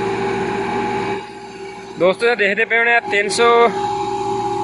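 A Massey Ferguson 375 tractor pulling ploughs and a leveller through a muddy rice field runs with a steady low engine drone, while someone briefly speaks over it midway.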